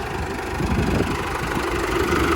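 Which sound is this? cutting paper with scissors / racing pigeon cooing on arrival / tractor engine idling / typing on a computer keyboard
tractor engine idling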